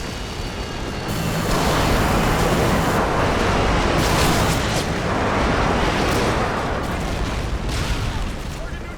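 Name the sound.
airstrike explosions in Call of Duty Modern Warfare 2 video game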